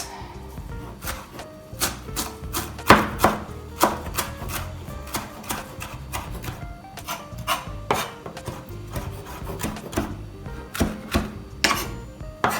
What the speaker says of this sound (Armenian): թարմ համեմը լավ լվալուց հետո, այսպես կտրատում ենք